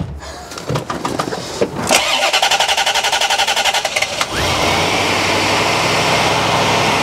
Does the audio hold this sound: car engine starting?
yes